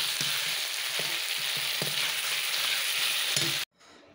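Drumstick leaves frying in a pan, a dense loud hiss of oil with a few soft knocks of stirring, close up, cutting off abruptly into near silence at the end.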